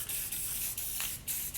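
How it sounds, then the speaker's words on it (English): Short, quiet hissing bursts from an aerosol spray paint can releasing gray paint, several brief sprays in a loose rhythm, close up with no speech. "this can of spray paint"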